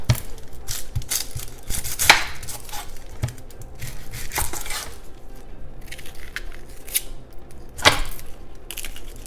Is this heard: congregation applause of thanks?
no